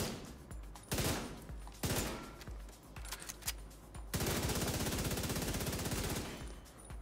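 Weapon fire in The Division 2 from a Stovepipe build, with bursts of rapid automatic shots and a long sustained stream of fire near the end, loud and close, with no talking.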